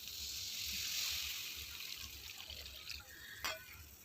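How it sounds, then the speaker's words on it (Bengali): Water poured into a pan of fish curry made with puti fish, a soft steady splashing trickle heard close up with a faint clink near the end, no talking. "ঝোলের জন্য অল্প জল দিয়ে দেব।"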